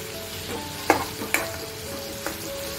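Prawns frying in hot oil crackle steadily, with a few sharp, close pops and spits standing out over the continuous sizzle.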